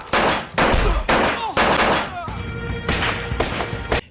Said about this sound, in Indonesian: saat suara tembakan terdengar